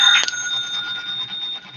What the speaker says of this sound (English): That's the telephone.